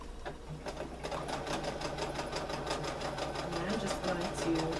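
A home sewing machine runs continuously around the seam of a fabric trick-or-treat bag, its rapid even needle chatter close and steady throughout the stretch with no pauses.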